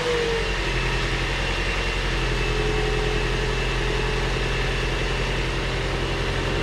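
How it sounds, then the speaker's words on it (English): A car engine hums in a steady, loud idle throughout, a constant low rumble with a faint whine layered on top, no speech. "Let's fire up the car"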